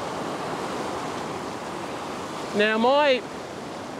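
Small ocean waves wash against coastal rocks in a steady surf hiss while someone speaks briefly partway through, close to the microphone.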